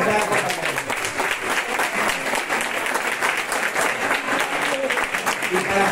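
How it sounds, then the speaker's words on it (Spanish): Loud, continuous clapping from an audience at a community centre's nativity scene lighting event in San Pedro Alcántara, dense and close, with voices talking over it. "quiero un fuerte aplauso para ella"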